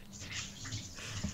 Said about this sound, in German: Das ist ein kurzer laufender Wasserhahn.